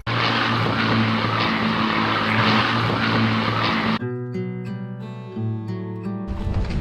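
A propeller aeroplane flies overhead near the Battle of Britain Memorial on the English coast, its loud droning engine filling the first four seconds before giving way to a steadier, tonal hum.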